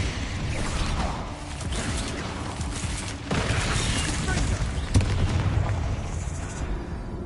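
The Bombarda explosive spell going off in the Hogwarts Legacy video game, a dense rumbling blast with a sharper boom partway through, amid game noise and voices.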